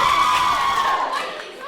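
Students at a secondary school election assembly cheer and shout together as a dense crowd roar, steady at first and then slowly fading, with a voice briefly rising above the noise.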